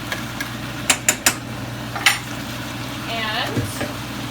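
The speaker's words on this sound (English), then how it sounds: "I'm gonna stir all of that around real good" Seasoning stirred into Jamaican stew chicken in a pot: a few sharp knocks of a spoon on the rim, then scraping stirs over a low sizzle, close by and with no talking.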